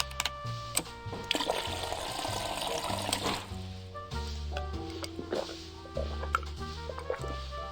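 A water dispenser fills in the video game Scott Whiskers, with a trickling, pouring liquid sound that runs for several seconds over a soft, tonal game music background, with no voices.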